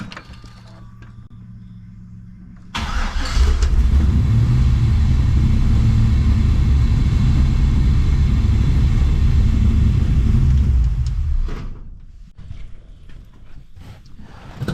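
A 1965 Chevrolet Impala SS, hot after sitting ten minutes, cranks and fires into a loud, steady low rumbling idle that holds for several seconds, then drops off as the engine is shut down, leaving quieter mechanical sounds.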